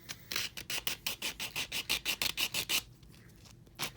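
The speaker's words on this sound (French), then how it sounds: "Allez plus limer à cet endroit-là." A nail file rasping off gel nail polish makes about fifteen quick, even back-and-forth scratching strokes, close and clear, before stopping with a couple of faint scrapes after.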